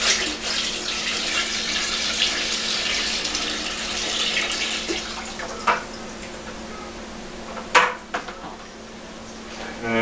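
Liquid for homebrew skeeter pee pours steadily into a container with a sustained splashing rush, then thins out, and a couple of hollow clunks from the vessel follow near the end.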